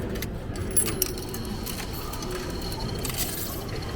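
Coins jingle and clink into a train ticket vending machine at a station in Osaka, Japan, with a few sharp metallic taps over steady station background hum.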